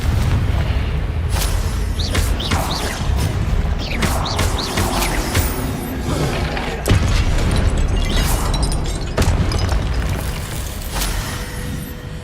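Confringo fire spell blasts in a Hogwarts Legacy wizard duel, a run of heavy booming impacts and crashing bursts over a low rumbling game soundtrack, loud and close with several hits in quick succession.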